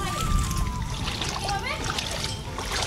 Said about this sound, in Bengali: যাই আগে রিসুকে নিয়ে আসি এই জলের মধ্যে ডিঙিয়ে ডিঙিয়ে